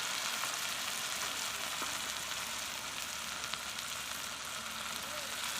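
Ground spices, cumin among them, sauté in a pan of onion, ginger and garlic paste for soybean kofta curry, giving a steady soft sizzle with no voices.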